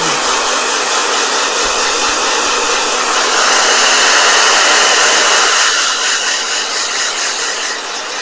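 A blow dryer runs continuously at close range, a loud steady broadband whoosh that holds for the whole stretch with only a slight shift in tone partway through.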